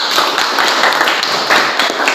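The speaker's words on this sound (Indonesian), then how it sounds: "Tepuk tangan dulu" Students clapping in a classroom, a dense, loud burst of many hands applauding together nearby, steady throughout with no talk.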